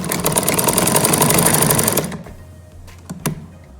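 A sewing machine runs loud and close in a fast steady whir while doubling the stitching on a trouser sleeve seam, then stops abruptly, leaving faint clicks and small handling knocks.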